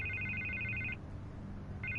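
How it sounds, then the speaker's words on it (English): A telephone rings persistently in Batman: The Telltale Series, a bright trilling electronic ring that pauses and then starts again over a low background hum. "I can't get the phone to stop ringing."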